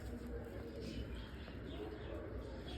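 A racing pigeon coos softly at a distance over a low, steady rumble of background noise, in a short stretch without clear talk.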